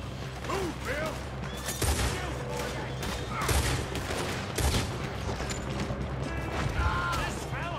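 Dense Red Dead Redemption 2 shootout with rapid gunfire cracking amid mechanical clatter and creaks, shots layered thickly throughout under occasional talk.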